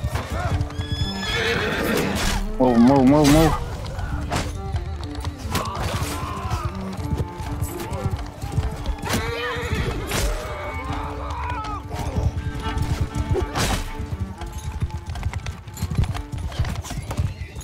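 Cavalry horses in the Mount & Blade II Bannerlord multiplayer siege battle gallop with dense clip-clopping hooves and repeated neighs and whinnies amid battle clatter, while a voice shouts briefly over the din.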